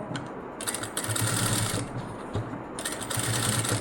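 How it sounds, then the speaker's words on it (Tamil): A sewing machine stitches along the edge of curved fabric for a design, running in a steady mechanical whir with a brief pause in the middle, close and fairly loud with no talk. "இப்படியே இந்த எஜ்ஜிலேயே தையல் போட்டுட்டு வரலாம்"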